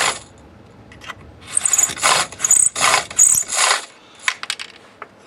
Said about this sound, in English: And then to finish it off, we'll use a little chamfer tool.